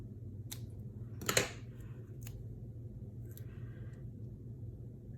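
Scissors cutting card for a shaker card, a few crisp, quiet snips spaced a second or so apart over a low background hum.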